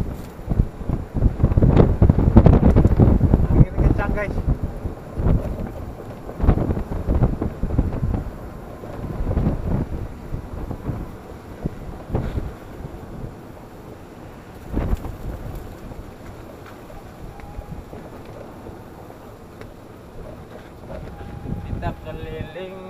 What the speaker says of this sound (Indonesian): Angin kencang guys.